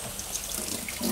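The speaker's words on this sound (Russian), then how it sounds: "И совершенно небольшое количество воды промываем. Смываем все самое вкусное." Water runs steadily from a tap as a small amount is swirled through a cooking pan to rinse it, a continuous close hiss and splash with no voices.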